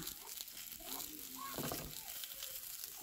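Chicken pieces fry without oil in a pan for a stir fry, a soft, faint sizzle with light crackles and a few brief tonal squeaks, quiet and close.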